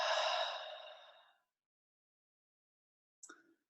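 A long, deep exhale during a calm breathing exercise, loud at first and then slowly fading over about a second and a half, followed by a short, faint breathy sound after a pause.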